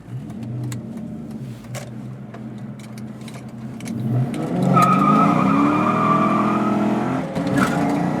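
A Ford Mustang with a racing seat is driven hard. The engine revs loudly and the tires squeal and skid, and the sound builds into sustained tonal tire screeching in the second half, close and loud.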